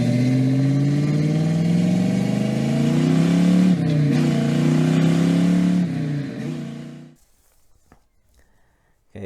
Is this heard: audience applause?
no